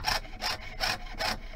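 A hand saw cuts metal sheet for an engraved crocus pendant in steady back-and-forth strokes, four bursts of rasping close up and alone.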